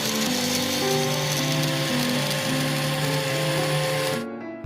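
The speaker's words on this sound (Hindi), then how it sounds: "तमाम मसाला जात को ब्लेंडर की मदद से पीस लेते हैं।" An electric blender grinds whole spices such as mace, cumin and coriander seed for mandi masala, a loud steady whirring drone that runs for about four seconds before cutting off abruptly.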